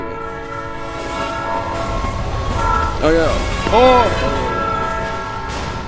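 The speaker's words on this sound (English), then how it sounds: "The trains. There's trains." A train rolls past close by with a loud, steady rumble, and its horn sounds in two short blasts around the middle. People talk briefly over the noise.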